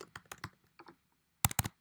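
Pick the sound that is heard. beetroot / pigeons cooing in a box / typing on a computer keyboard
typing on a computer keyboard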